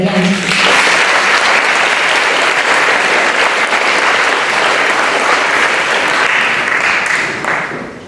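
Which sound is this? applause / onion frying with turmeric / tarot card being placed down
applause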